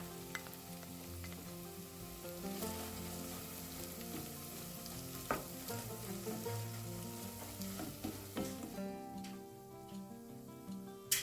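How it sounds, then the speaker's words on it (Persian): Ground walnuts are stirred into a sizzling onion, garlic and turmeric mixture frying in a pot. Gentle frying hiss and occasional scraping stir sounds run under steady background music. "100 گرم گردوی آسیاب شده بریزید و هم بزنید."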